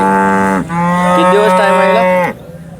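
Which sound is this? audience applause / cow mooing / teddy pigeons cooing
cow mooing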